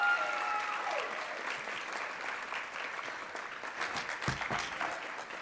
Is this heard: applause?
yes